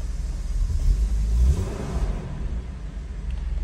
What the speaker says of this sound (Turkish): M50B20 arkadaşlar bu arabanın motoru.